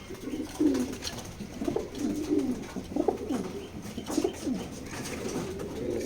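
Racing pigeons from a loft coo close by in a series of soft, rolling calls, overlapping one another and rising and falling without pause.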